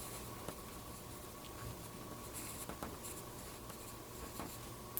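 A pencil draws repeated lines on paper to build texture for a drawing of light-coloured eyes. The strokes make quiet, close, scratchy rasps in an irregular rhythm over a faint steady hum.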